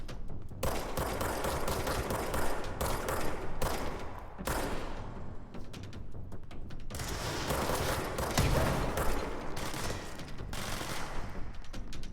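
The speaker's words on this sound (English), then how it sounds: "Alright, fireworks." Fireworks in a video game: a dense, continuous crackling barrage of rapid popping bursts, steady and fairly loud, with brief dips in intensity and no talking.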